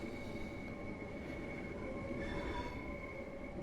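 Train passing in Train Sim World 3 on the Dartford to Rainham line, a steady rumble of rolling wagons with faint wheel squeal tones held through the whole stretch, at moderate level.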